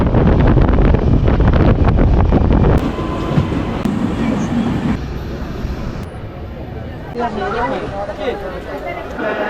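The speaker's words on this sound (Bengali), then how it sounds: "আমাদের হচ্ছে এই ট্রেন হচ্ছে খুদ্দা রোড জংশন রেলওয়ে স্টেশন থেকে ছেড়ে দিল" Inside the 12822 Dhauli Express passenger train from Puri, just leaving Khurda Road Junction, a loud steady rumble and rattle of the carriage with wind buffeting the microphone, easing slightly as the run continues.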